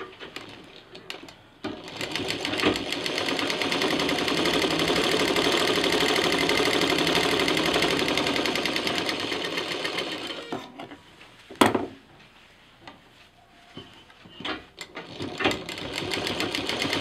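A sewing machine stitches fabric pieces together for a DIY festive sling bag, running in one long, steady, loud burst, then stopping and starting in short runs.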